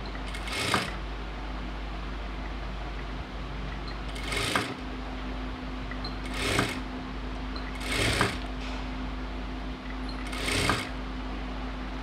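A sewing machine stitches an umbrella chudidhar top in short bursts, five separate runs of rapid whirring spaced a few seconds apart over a steady low motor hum, close and clear.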